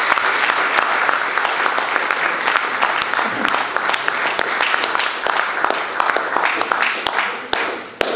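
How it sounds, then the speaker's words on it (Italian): An audience at a football club's seventieth-anniversary evening event breaks into sustained, dense applause, with many hands clapping close and steady throughout and a few sharper claps standing out. "Grazie, un applauso."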